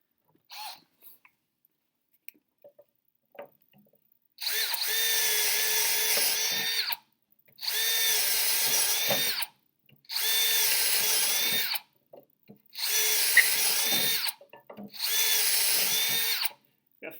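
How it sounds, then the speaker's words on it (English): Power drill boring holes into a piece of wood, five loud sustained whining bursts of about two seconds each, separated by short pauses with faint handling clicks. "we're going to take a drill and put a good amount of holes in the piece of wood"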